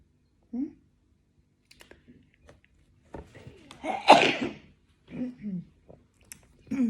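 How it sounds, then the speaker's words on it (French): A single sharp sneeze bursts out indoors amid quiet pauses, with soft clicks and rustles around it and a few short bits of speech before and after. "À chaque fois que j'éternue, je réveille."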